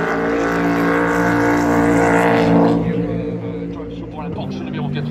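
Ferrari and Toyota prototype race cars at the 2024 24 Hours of Le Mans, near the Indianapolis corner, hold a loud sustained engine drone under French commentary, easing and thinning after about three seconds.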